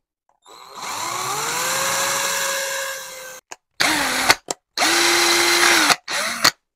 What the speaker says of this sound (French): Donc ça, je le reperce en deux, tu vois.